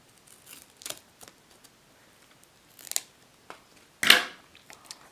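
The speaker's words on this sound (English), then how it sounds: "Just put it onto the center of the duct tape and then just cut it off." Duct tape being cut off the roll, with scattered soft snips and crinkles and a louder sharp cut near the end, close and otherwise quiet.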